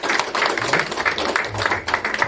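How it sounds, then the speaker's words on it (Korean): Audience applause welcomes a speaker at a lecture event, heard as a steady patter of many hands clapping at moderate volume, continuous through the short stretch without a clear start or end. "박안신 우리 수석 부회장님을 큰 박수로 맞이해주시면 고맙겠습니다"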